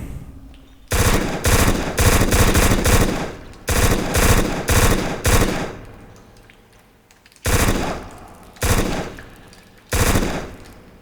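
MP5 submachine gun fire in a video game: loud, rapid automatic bursts, several in quick succession, then two shorter bursts after a pause, with no talking over them.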